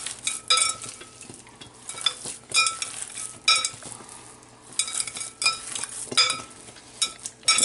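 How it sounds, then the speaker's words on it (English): Meatball mixture of ground pork and beef, panko breadcrumbs, Parmesan, garlic, salt and pepper being mixed, with repeated wet squishing and slapping pulses in an uneven rhythm, close and fairly loud, no talking. "Sure you mix it good."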